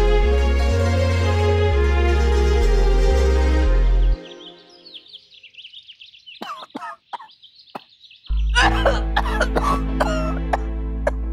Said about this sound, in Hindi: ये कैसी खांसी है जो ठीक ही नहीं हो रही?